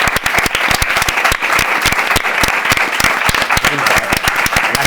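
Loud, close audience applause at the end of a Spanish film-analysis show, sharp individual claps in a thick continuous burst that carries on for several seconds, with faint voices mixed underneath.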